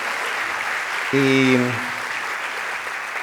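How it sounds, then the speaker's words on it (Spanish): An audience at the Congreso Futuro 2025 conference applauds steadily in a hall. The dense clapping runs throughout, and a voice briefly sounds over it. "demos un aplauso"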